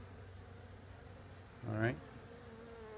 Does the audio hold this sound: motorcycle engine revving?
no